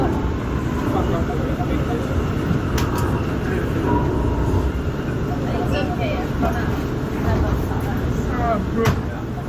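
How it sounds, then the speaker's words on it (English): An R179 C local subway train runs toward Euclid Avenue with a steady rumbling roar and wheel noise throughout, occasional clicks and squeals, and voices faintly underneath. "This is a Euclid Avenue bound C local train."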